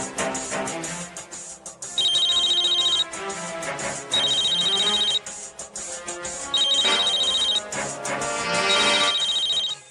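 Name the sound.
telephone ringing during a call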